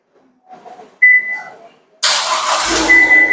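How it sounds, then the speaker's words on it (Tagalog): A 2023 Mazda BT-50 pickup truck engine is remote-started: a short electronic beep, then it cranks and starts, settling into a steady idle that continues to the end. "Mandar na yung kanyang makina."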